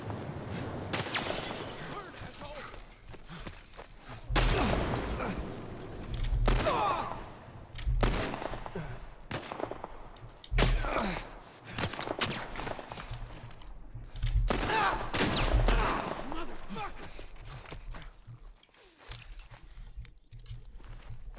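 Gunfire in The Last of Us Part 1 on PS5, loud bursts of shots and rapid volleys separated by short pauses, with clattering impacts between them.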